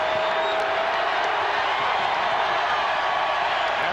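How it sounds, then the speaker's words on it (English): A large arena crowd roars at a 1994 NBA Finals basketball game between the Knicks and Rockets, a dense, sustained wall of cheering with no breaks. "And again, the crowd comes to life."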